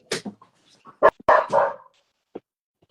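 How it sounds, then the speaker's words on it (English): A dog barks a few times at a distance, short sharp woofs with quiet gaps between them. "Dog woofing"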